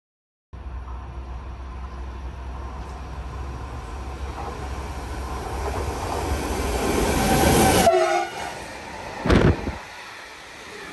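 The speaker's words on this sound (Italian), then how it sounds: "Treno in transito al binario 1, allontanarsi dalla linea gialla." A train runs through the station at Anzola Emilia, a steady loud rumble of wheels and carriages building for several seconds before cutting off abruptly, followed by a short sharp burst near the end.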